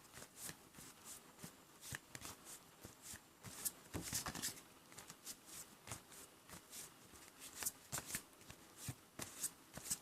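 Oracle cards are handled and shuffled in quick repeated riffles and flicks, a crisp papery rhythm of short bursts, close and fairly quiet, with no talk.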